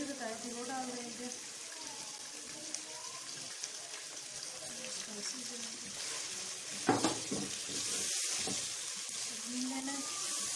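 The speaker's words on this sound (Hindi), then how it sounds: "2 से 4 मिनट तक फ्राई कर लेना है।" Chicken fries with spices in a pan, a quiet continuous sizzle with stirring scrapes and a brief louder clatter near the end, a faint voice talking underneath.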